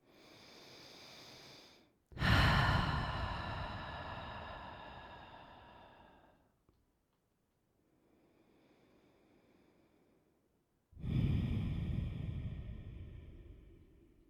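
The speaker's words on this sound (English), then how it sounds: "Taking some deep breaths in and out through the nose" Slow, deep breaths drawn in and released through the nose during a gentle yoga practice, a long airy inhale then a softer exhale, followed by a quiet pause and another full breath, close and intimate.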